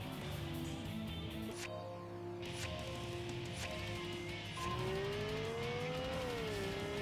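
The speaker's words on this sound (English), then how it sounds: "That is not a stock engine sound." The V8-swapped Supra in a racing game on the Wangan highway holds a loud engine drone that climbs in pitch as it accelerates through the second half, with some tire squeal and hiss over it and no one talking.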